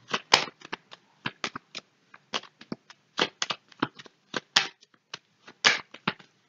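Tarot cards being shuffled for a reading: a quick series of crisp riffling bursts and soft slaps, close and clear, with brief pauses between them in a quiet room.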